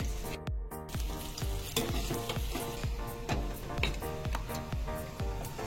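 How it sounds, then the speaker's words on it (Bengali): Two brinjals (eggplants) frying in hot oil give a steady close sizzle, with repeated low knocks and scrapes of a spatula stirring the pan throughout. "তাই 2টো বেগুন ভাজা হচ্ছে।"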